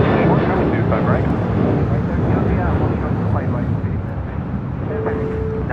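An American airliner takes off from runway 25 right at LAX, a loud, sustained broadband engine roar heard nearby, with radio talk over it.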